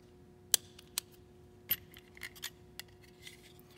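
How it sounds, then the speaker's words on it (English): Small metal parts click and tap as the barrel and guide rod are reinstalled into a Springfield Hellcat pistol slide during a trigger kit install, a few sharp close clicks with quiet gaps between. "Take our barrel and our slide, reinstall the barrel, guide rod, reinstall the guide rod"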